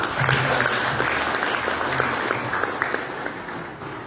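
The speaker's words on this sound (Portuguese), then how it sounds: "Aplauda Jesus." A church congregation applauds in praise of Jesus, dense steady clapping from many hands filling the room and tapering slightly toward the end, with faint voices underneath.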